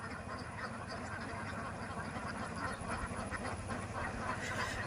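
A large flock of ducks, around a thousand, waddles in lines through a Kerala village, their quacking blending into a steady, dense chatter alongside a constant background hiss.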